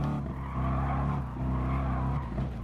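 Race car engine from Gran Turismo gameplay, a steady loud droning rev with harmonic whine that shifts slightly in pitch, accompanied by faint tire scrubbing, continuous throughout with no talk.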